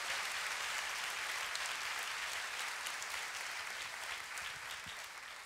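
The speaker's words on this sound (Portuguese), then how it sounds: "Dá uma salva de palmas a Ele" Church congregation giving a round of applause during a sermon: broad, steady clapping from a large crowd, soft and somewhat distant, slowly tapering off over five seconds.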